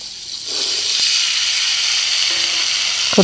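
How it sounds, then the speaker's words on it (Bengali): Sliced cucumbers hitting hot oil tempered with black cumin seeds in a pan, giving a steady, loud close sizzle that rises after a brief quiet start and holds throughout, with a faint clink near the end. "তারপর শশাগুলো দিয়ে এখানে মেথি না সরি কালো জিরে ফোড়ন দিয়েছি শশাগুলো এখন দিয়ে দিচ্ছি"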